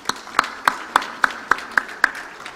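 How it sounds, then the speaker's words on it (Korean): Congregation at a Korean church anniversary and ordination service claps in a slow, steady rhythm, about nine distinct hand claps spaced evenly, fairly faint and close, with no talking over them. "박수 한번 쳐드리시죠"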